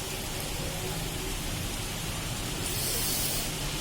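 Rain falling outside, a dense, even hiss of steady rainfall on surfaces, continuous and fairly loud with no voices.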